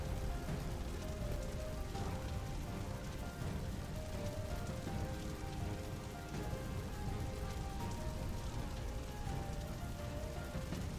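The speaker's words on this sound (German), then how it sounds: "Nun solltet ihr von dem Regen wirklich nichts hören." Rain falls steadily outside an open window, a dense, even patter of drops on surfaces that stays close and constant throughout, with no voices.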